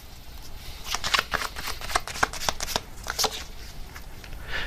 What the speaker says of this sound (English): let me get another card here